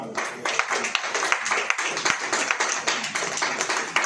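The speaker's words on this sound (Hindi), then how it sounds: "तो जोर से ताली बजाइए" Congregation at a Christian worship service clapping loudly together, a dense, steady patter of many hands filling the room, moderately near and sustained throughout.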